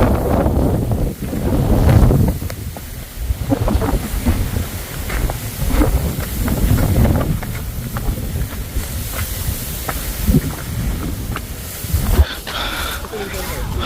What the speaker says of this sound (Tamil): காற்று பயங்கரமாக அடித்து வீசிக்கிட்டு இருக்கு